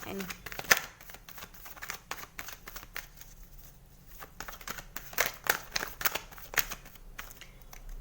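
Tarot cards are shuffled and drawn at close range: a string of crisp riffles, flicks and papery snaps in uneven bursts, with a soft voice faintly present at times.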